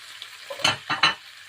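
Onions sautéing in a frying pan for a mixed seafood stir fry with shrimp and squid, a soft background sizzle broken by two or three short loud bursts as they hit or are stirred in the pan, close.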